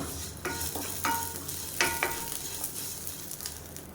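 Curry leaves roasting in a pan for a neem-flower thovayal, with soft crackling and a few spoon scrapes and stirs over a steady low hiss.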